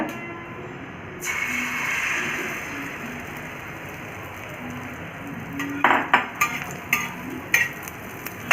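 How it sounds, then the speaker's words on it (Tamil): Beaten egg poured onto a hot oiled tawa sets off a sudden loud sizzling hiss, followed by a run of sharp spatula scrapes and clinks against the pan. "இந்த ஸ்டேஜில் நீங்கள் கலக்கி வச்சுருக்க முட்டையை நீங்கள் ஊற்றிக்கோங்க"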